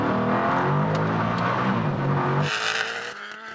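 A Koenigsegg, a Tesla Plaid and a turbo Hayabusa accelerate hard in a rolling race from 50 mph in second gear, a loud rising engine roar and whir that peaks and then fades as the vehicles pull away.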